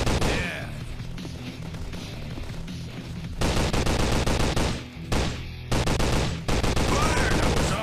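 Bursts of rapid automatic gunfire in the Android shooter Commando FPS Survival Strike, loud and close, coming in repeated volleys broken by brief pauses.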